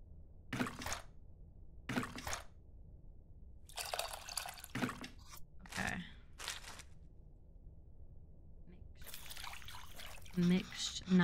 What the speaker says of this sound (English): I have to mix the tamarind with the water to extract its essence multiple times